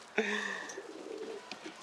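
A single short cooing call from a pigeon, fairly faint against quiet background with a soft click afterward.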